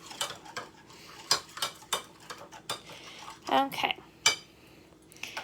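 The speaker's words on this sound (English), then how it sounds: "let's stir that together" Spoon stirring warm water and sugar in a bowl for pizza dough, a series of sharp clinks and scrapes against the bowl at irregular intervals, with a brief spoken word.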